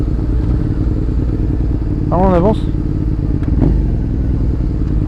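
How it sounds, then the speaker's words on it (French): A motorcycle rumbles close by on a road, a dense, loud engine drone that runs throughout. Several people talk over it. "C'est quoi ça moto?"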